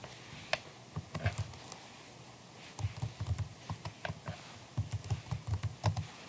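Keystrokes on a computer keyboard entering a username and employee ID, three short bursts of quick typing separated by pauses, close and clear over a quiet background.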